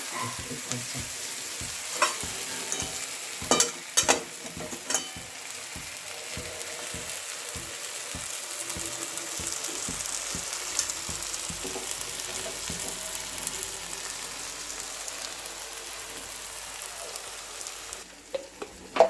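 Grated coconut with pea greens frying in a pan gives a continuous close sizzle, broken by sharp scrapes and taps of a spatula stirring the pan at irregular intervals.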